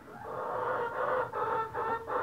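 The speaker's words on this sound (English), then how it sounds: "got one that's a fighting chicken right there" Several chickens clucking and murmuring close by in a continuous overlapping chorus, with rhythmic swells in their calls.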